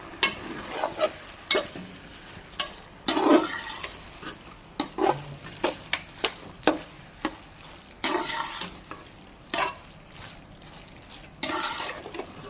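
Chicken macaroni tossed with ketchup in a pan, a spoon scraping and clacking against the metal in repeated close strokes with faint sizzling between them.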